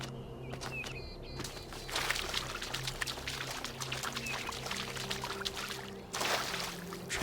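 Water pours steadily in The Talos Principle 2, a continuous splashing stream with a few brief bird-like calls over a low game ambience, lasting throughout.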